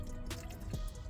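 A microfiber rag is dipped into soapy dishwater in a small van sink, giving a brief soft slosh and drip, close and quiet.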